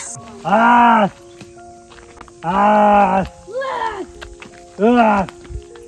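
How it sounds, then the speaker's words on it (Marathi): An animal in a forest near a cashew grove gives three loud, drawn-out grunting calls at a close distance, spaced a second or two apart, with rustling and a brief softer call between them. "डुक्कर वगैरे आहे की काय, डुकरासारखा आवाज येतोय"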